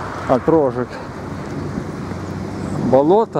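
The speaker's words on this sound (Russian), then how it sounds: "Черт, ветер." Gusty wind buffeting the microphone outdoors beside a former marsh in Kyiv, a steady rushing roar between and under short bursts of someone speaking.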